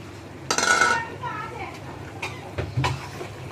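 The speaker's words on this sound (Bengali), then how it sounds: "মাংসগুলো দিয়ে নাড়াবো।" Meat is stirred in a cooking pot for tehari, metal utensil scraping and clanking against the pot in a few bursts while people, including a child, talk nearby.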